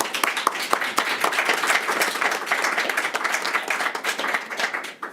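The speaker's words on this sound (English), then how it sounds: "Applause to all presenters." Audience applause for presenters at a city transformation and digital technology session, a steady patter of many hands clapping indoors, moderately loud and fading slightly at the end.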